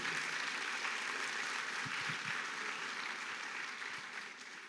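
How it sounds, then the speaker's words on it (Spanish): A church congregation claps together, a dense continuous wash of applause that sounds spread through a large room and fades slightly toward the end. "Dele un fuerte aplauso al Señor por eso."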